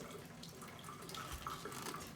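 Warm water runs steadily from a tap into a sink, a soft continuous splashing hiss held at a low, even level for the whole stretch with no talk over it.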